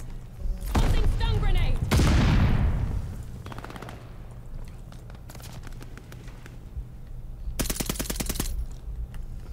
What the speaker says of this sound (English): Throwing grenade. Tossing stun